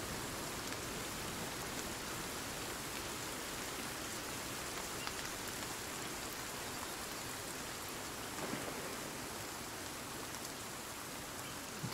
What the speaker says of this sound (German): Oh, wie nice, Regen.